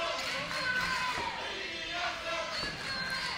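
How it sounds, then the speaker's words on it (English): Wrestling match crowd roaring and cheering continuously at an indoor show, a dense wall of voices with shouts rising through it. "Feeding off the energy of the crowd here."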